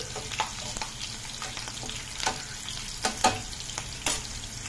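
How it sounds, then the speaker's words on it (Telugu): Curry leaves and green chilies frying in oil for a lady's finger fry, a steady close crackling sizzle broken by several sharp spatter pops and stirring clinks. "కొద్దిగా కరివేపాకు పచ్చిమిర్చి చేసి వేయించుకుంటున్నామండి"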